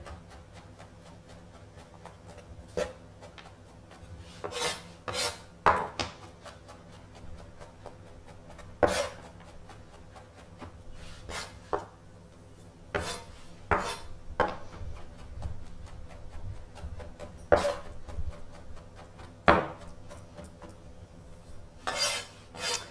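Mushrooms being sliced then chopped with a knife on a board in a home kitchen, sharp irregular knocks and taps spaced across the stretch, close and fairly clear over a quiet background.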